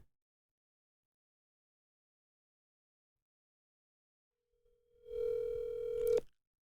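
A telephone gives a steady, clear tone for about a second after near silence, followed by a brief click as the number is dialed.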